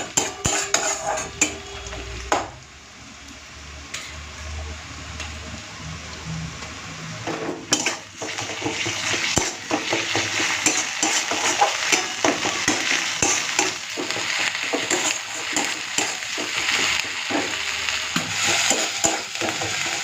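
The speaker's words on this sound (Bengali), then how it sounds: "আদা রসুন বাটাটাকে পেঁয়াজের সাথে দিয়ে একটুখানি ভেজে নিচ্ছি যাতে কাঁচা গন্ধটা চলে যায়" Ginger garlic paste with dried red chilli paste fries with onions for a potato and cauliflower curry, giving a loud steady sizzle and frequent clattering scrapes of a metal spoon stirring in the pan, quieter at first and then busier.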